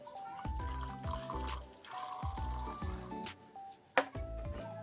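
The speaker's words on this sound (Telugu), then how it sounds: "ఆ రూట్స్ మునిగేంత వరకు చల్లటి నీళ్ళు పోసేసుకోవాలి" Cold water is poured into a glass vessel holding coriander with its roots, a continuous gurgling trickle with knocks against the glass and a sharp clink near the end.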